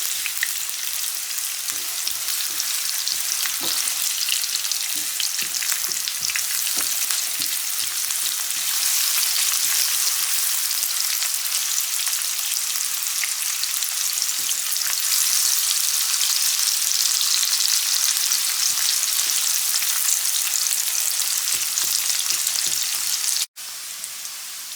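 Chopped onions fry in hot oil for bhindi masala, giving a loud, continuous sizzle with soft scraping stirs scattered through it, before the sound drops off abruptly near the end.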